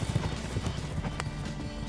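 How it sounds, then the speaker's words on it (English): Horses gallop in a racing scene, their rapid clip-clop hoofbeats thudding steadily and close for the whole stretch, with a brief whinny-like sound mixed in. "Just like this scene here where we're racing horses"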